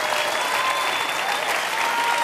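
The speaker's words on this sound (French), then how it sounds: "On peut les applaudir, s'il vous plaît." Live television studio audience at Star Academy applauding a duet by singers Cécilia Cara and Florent Pagny, a thick, even wash of clapping, loud and sustained throughout.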